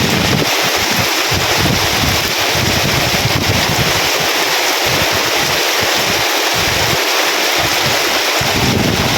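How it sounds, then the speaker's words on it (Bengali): Strong storm wind with rain rushes and gusts continuously, heavy buffeting noise filling the whole stretch, with no one speaking. "প্রচুর পরিমাণে বাতাস দিতেছে"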